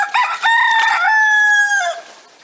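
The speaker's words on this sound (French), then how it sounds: "Et le coq, toujours là pour commenter l'actualité" A rooster near fig and apple trees crows once, close and loud, a long drawn-out cock-a-doodle-doo that rises, holds and fades out alone.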